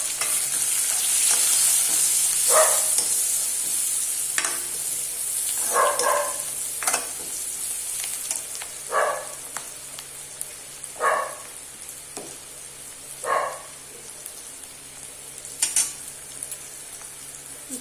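Turmeric and a bay leaf sizzle in hot oil alongside dried chillies, a steady frying hiss broken by a few stirring scrapes and clinks, close and alone.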